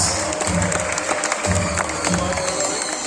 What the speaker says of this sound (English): let's give a master round of applause to our flying macaws